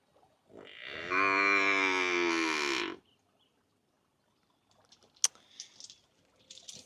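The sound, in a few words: cow mooing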